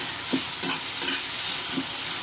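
Jujube chutney being stirred and fried in a pan, with a continuous sizzle broken by several scraping strokes of the spoon, close and moderately loud.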